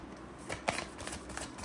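Tarot cards shuffled by hand in soft, quick riffles and slides, with one sharper snap near the middle, close and quiet with no voice.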